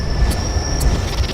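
A subway train runs with a steady mechanical rumble, thin whining tones and faint rhythmic wheel clicks and squeals, heard fairly close and continuous.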